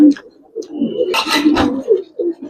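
Silver Giribaz pigeons give soft, low coos in short bursts, close by, with a brief clink and a little background noise between calls.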